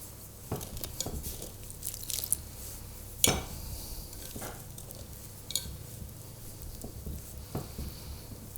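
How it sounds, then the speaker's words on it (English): Melted butter is poured little by little into pound cake batter, giving soft wet squishes and scattered light taps of a utensil against a bowl, quiet and close with gentle stirring in between. "And now I'm just going to pour this in just little by little, this melted butter, until it's incorporated into the batter."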